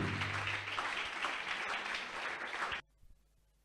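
A church congregation bursts into sustained applause and acclaim, dense clapping that holds steady for nearly three seconds before cutting off abruptly to near silence.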